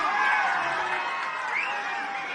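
Crowd at a protest sit-in near Indira Park claps and cheers in one sustained, fairly loud burst of mixed applause and shouting that slowly fades over a couple of seconds.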